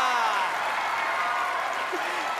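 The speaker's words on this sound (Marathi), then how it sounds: "जोरदार टाळ्या वाजवा घरी बसल्या" A studio audience at a Marathi comedy show claps in a dense, steady wash of applause that holds evenly for the whole moment, with no clear voices on top.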